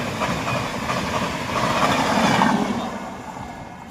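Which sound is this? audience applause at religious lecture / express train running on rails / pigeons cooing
express train running on rails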